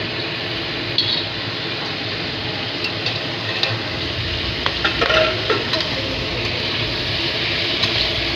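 Prawn fritters coated in gram flour and onion frying in oil, a constant crackling sizzle close by, punctuated by a few clinks and scrapes of a utensil against the pan, no talk.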